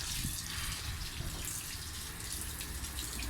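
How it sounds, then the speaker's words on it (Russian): Water poured generously onto a rug laid out on a balcony to soak it before washing, a steady, close, unbroken rushing splash that fills the whole stretch with no talk over it. "Сперва замачиваю водой. Обильно вот так."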